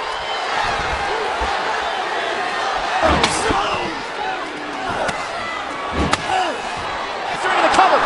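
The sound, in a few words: F5 slam in a wrestling video game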